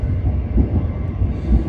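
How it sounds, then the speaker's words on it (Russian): Continuous low rumble and rattling of a passenger train running from Astana to Almaty across the Kazakh steppe, heard from inside the carriage, steady and fairly loud. "Поезд Астана,"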